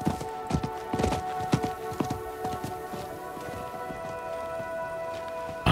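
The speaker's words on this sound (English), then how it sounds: "I think that was the merchant's horse." Merchant's horse hooves clip-clopping in Diablo 4, a steady run of sharp hoof strikes that slows and fades over a sustained musical drone, with no talking.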